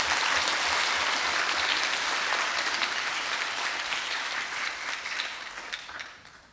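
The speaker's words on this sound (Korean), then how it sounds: "큰 박수로 환영해 주시기 바랍니다." Sustained crowd applause at a children's national assembly event in the Korean National Assembly, dense and steady, gradually thinning and fading toward the end.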